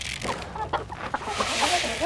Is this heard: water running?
no